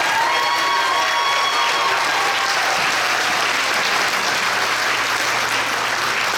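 Audience at a school board meeting gives students a round of applause, dense sustained clapping from a large crowd that stays loud and even from start to finish.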